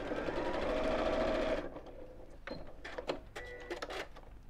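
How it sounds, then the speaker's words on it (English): Sewing machine stitching across an insulated lunch bag, a steady close whirring run for about a second and a half that stops abruptly, followed by a few faint clicks and handling noises. "And on this one, we're going to sew all the way across."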